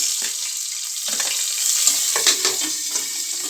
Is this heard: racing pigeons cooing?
no